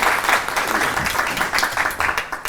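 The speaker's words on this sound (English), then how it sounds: "big round of applause for this group" Audience applause for a group of participants at a university health research methodology session, a steady dense patter of many hands clapping that continues evenly throughout, with a faint voice briefly underneath.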